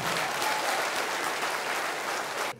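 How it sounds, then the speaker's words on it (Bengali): Loud, dense applause from an audience at a company gathering in Bangladesh, a steady wash of many clapping hands that holds for about two and a half seconds before cutting off abruptly. "এই জন্য ডক্টর লিজিনারের জন্য জোরে একটা করতালি হোক।"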